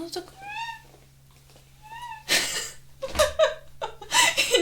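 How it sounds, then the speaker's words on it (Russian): A squeaky office chair creaks in two rising, whiny squeals that sound just like a meowing kitten, followed by breathy laughter and talking. "у меня мяукающее кресло"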